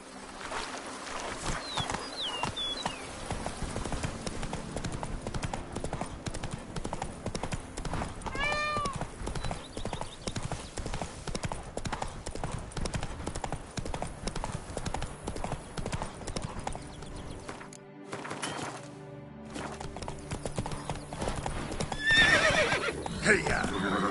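A horse named Roach gallops with rapid, rhythmic hoofbeats that continue throughout, and a whinny rises briefly partway through. A voice speaks once or twice over the hoofbeats.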